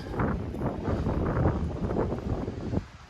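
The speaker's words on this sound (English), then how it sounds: "Super windy, hopefully you guys can hear me." Strong wind buffets the microphone outdoors in the Arizona desert, with loud, continuous gusty roaring and rumbling that stays steady throughout before easing slightly at the end.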